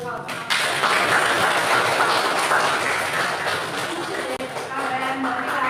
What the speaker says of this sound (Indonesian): kita tepuk tangan dulu kalau senang